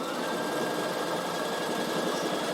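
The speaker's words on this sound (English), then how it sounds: "there's all my wonderful sounds of my machine" Steady, buzzing whir of a Bernina sewing machine running continuously, stitching bias piping at an even rapid pace with no talking.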